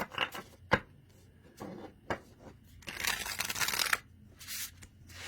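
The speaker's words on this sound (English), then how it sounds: "Oh, the side shuffle is amazing." A Seed Tarocle tarot card deck being side shuffled: soft papery riffles and sharp snaps come in short bursts, with a longer dense rustling stretch near the middle.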